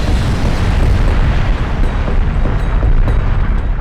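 Taal Volcano erupting with a small ash explosion, a loud continuous deep rumbling roar with dense low-end power, steady and unbroken throughout without any voices.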